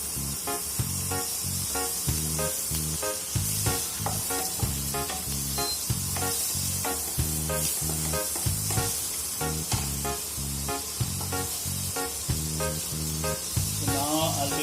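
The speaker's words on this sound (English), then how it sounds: "when you're done with frying the dried spices, it's time to put butter" Butter sizzles in a pan after dried spices have been fried for paneer butter masala, a steady crackling hiss that runs throughout beneath rhythmic backing music.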